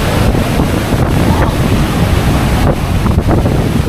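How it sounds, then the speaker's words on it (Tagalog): Strong wind buffets the microphone in a steady roar while large waves wash and surge underneath, continuous and loud with no voices. "Malakas ang hangin."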